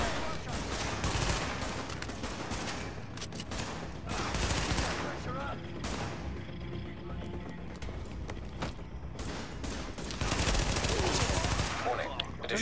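Rapid gunfire bursts from the video game The Division crackle almost continuously at high volume, with dense overlapping shots and game effects, and voices talking over the action.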